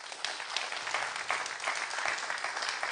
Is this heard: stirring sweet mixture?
no